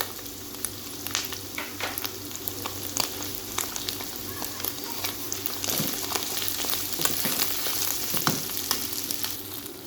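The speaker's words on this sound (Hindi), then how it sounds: "लहसुन अदरक के पेस्ट को हम अच्छी तरह भून लेंगे" Minced meat frying in a pan with garlic ginger paste, a steady close sizzle with scattered crackles and occasional scraping stirs, with no talking.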